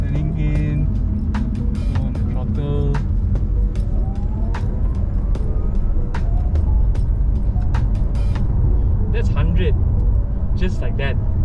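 A Porsche 911 GT3 accelerates hard out of a slow uphill corner on a race track, its engine a loud, sustained roar close by, with a voice talking underneath.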